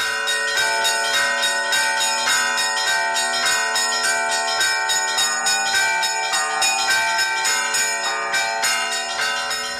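Church bells are rung by a monk at Easter on Mount Athos: several bells clang in a fast, continuous, rhythmic peal, loud and ringing with overlapping tones, filling the whole stretch without voices.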